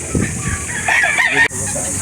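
A rooster crows at a chicken market in Calauan, Laguna, a loud, close, drawn-out call rising over clucking fowl and busy market background.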